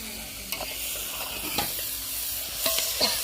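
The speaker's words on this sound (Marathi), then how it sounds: "तांदूळी परतू देऊ आपण आता याला." Rice being stirred and fried in a pot over a three-stone wood-fired stove, steady close sizzling with a few scraping stir strokes, no talk.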